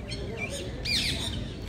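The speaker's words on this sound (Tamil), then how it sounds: "இங்கே நிறைய பறவைகள் இருக்கின்றன." Birds around the Sabarmati Gandhi Ashram, where visitors scatter grain for them, give a few short squawks and chirps, with a brighter burst near the end, over a steady low background rumble.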